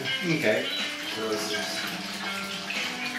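Homebrewed nut brown ale wort bubbles steadily as it is aerated, a continuous watery churning close by, with someone speaking over it.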